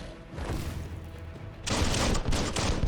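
Gunfire from the Biomutant video game: a low rumbling stretch gives way to a loud burst of rapid shots that continues to the end, with no talking over it.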